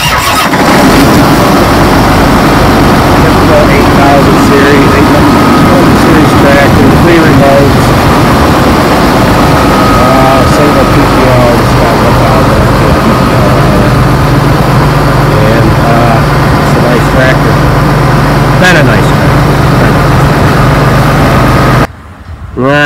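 A model 8120 farm tractor cranks, fires up and settles into a loud, close diesel idle lasting about twenty seconds, with a voice speaking over the rumble.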